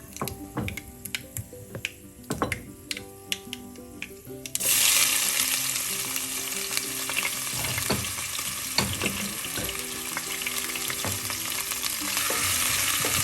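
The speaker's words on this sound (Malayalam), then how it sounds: "അതിലേക്ക് ഇഞ്ചി വെളുത്തുള്ളി ചതച്ചത് ചേർക്കാം" Crushed ginger and garlic hit hot oil with fenugreek seeds for a king fish curry, bursting into a loud, steady sizzle after a few seconds of quieter stirring and clinking, with no one talking.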